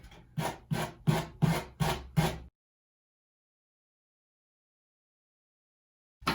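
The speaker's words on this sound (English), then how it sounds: "Okay, so I sanded it all up." Rhythmic rasping strokes of sandpaper on a wooden home DIY piece, about six quick passes close up, then a long silence before another stroke begins.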